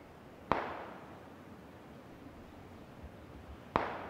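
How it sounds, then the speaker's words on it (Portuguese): Two sharp, distant gunshots in the battle royale game PUBG, fired from a small town, ring out about three seconds apart, each with a short trailing echo over a quiet background. "Os tiros estão vindo lá da cidadezinha"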